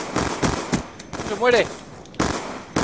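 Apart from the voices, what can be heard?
gunshots from the video game Black Ops 2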